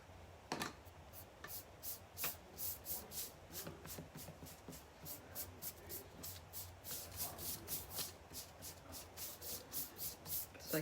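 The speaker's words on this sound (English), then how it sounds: "So I can sand it off." Chalk paint being sanded off a surface by hand, with steady, close rubbing strokes that repeat in a rhythmic back-and-forth pattern and no talking.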